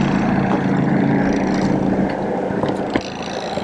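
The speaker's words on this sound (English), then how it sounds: "Engine's on." Engine of an Outremer 52 sailing catamaran running at anchor, a loud steady low drone with a propeller-like churn, alone and fairly close.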